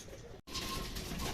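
Racing pigeons coo at a loft in Moncada, Tarlac, a soft steady murmur of calls under broad background hiss, broken by a brief dropout near the start.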